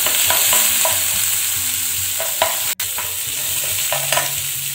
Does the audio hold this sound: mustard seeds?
yes